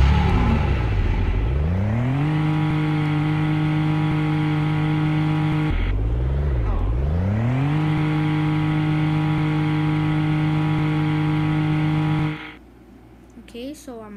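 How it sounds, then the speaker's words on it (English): Car driving in the Roblox game Bloxburg: a loud synthetic engine tone rises as it accelerates, holds steady, dips and revs up again, then cuts off near the end, with no talk over it. "Now it's time to drive my car."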